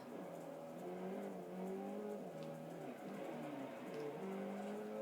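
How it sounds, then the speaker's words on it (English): A Lamborghini in the Forza racing game drifts with a steady engine drone whose pitch rises and falls, heard at moderate loudness without talk. "Perfect drift."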